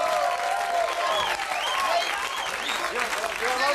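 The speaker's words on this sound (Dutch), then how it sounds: "Dames en heren, een applaus voor deze vrijwilligster." An audience in a hall applauds a volunteer from the crowd, a dense, sustained clapping that stays loud and even from start to finish, with a few cheers and whoops rising over it.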